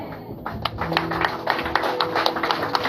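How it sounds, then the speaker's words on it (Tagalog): A Sunday church service congregation in Hung Hom claps in a rhythmic, fairly even pattern of distinct hand claps, moderately loud, with a faint voice or tone sounding beneath it. "Minsan pa po isang malakas na palakpak."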